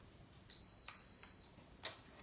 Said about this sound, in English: Makes a lot of loud beeps.